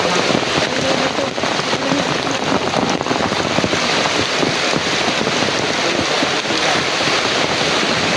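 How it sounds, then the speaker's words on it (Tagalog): Heavy rain pours down loudly and continuously, a dense roaring patter on surfaces with no break throughout. "kahit malakas po yung ulan"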